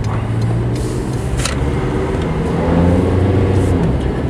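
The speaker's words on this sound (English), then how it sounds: "You can hear the engine running." Suzuki Vitara engine running steadily while the vehicle drives along at low speed in traffic, a continuous droning hum with road noise, fairly loud and close, no talking.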